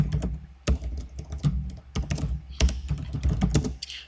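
Rapid, uneven clicking of keys on a computer keyboard, close up and continuous, with occasional heavier keystrokes over a low background hum.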